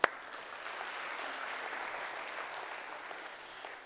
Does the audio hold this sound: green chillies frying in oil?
no